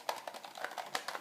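A Hohner Marine Band harmonica in its box rattles inside a pocket, giving a short run of faint, dry clicking and tapping knocks in an irregular rhythm, close and quiet.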